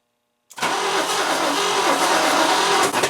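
A 1964 Oldsmobile 98 running off battery power with no alternator connected fires up after half a second of silence, then runs loudly and steadily close by.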